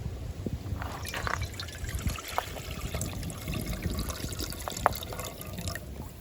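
Coconut juice being strained, a soft close trickle and drip of liquid running steadily with small splashes, no speech.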